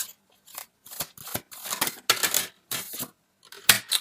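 Tarot cards drawn and laid out on a table, a string of close, crisp papery slaps and slides in short irregular bursts with brief silences between them.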